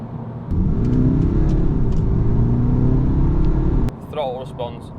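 A BMW 420d with the N47 diesel and an upgraded turbo accelerates hard in sport mode, its engine giving a loud, steady rumbling drone for several seconds before it eases off, with someone talking over it.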